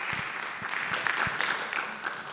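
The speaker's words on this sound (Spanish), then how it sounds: "De nuevo, otro fuerte aplauso." Audience applause for a speaker at a talk on virtual planning and 3D printing in orthopedics, brief and fairly faint scattered clapping in a room.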